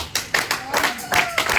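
A church congregation in a Paris assembly claps in steady rhythmic beats, several claps close together, while a voice speaks over the clapping.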